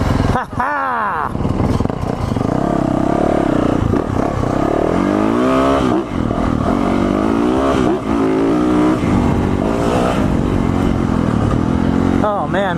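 A Yamaha two-stroke dirt bike engine revs loudly and close by, rising and falling in repeated bursts with a raspy, buzzing tone. Voices talk over the engine at times.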